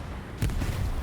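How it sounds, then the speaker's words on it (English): Bombing run in the video game Hell Let Loose: a single heavy explosion lands abruptly after a low rumble, followed by a rolling boom and lingering low-frequency decay. "I hear the bombing run."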